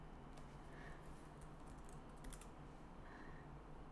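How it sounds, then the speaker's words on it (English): Quiet, steady clatter of keys being typed on a computer keyboard while entering a value during food photo editing, a few quick pattering strokes close by. "Here, I'll just type it in."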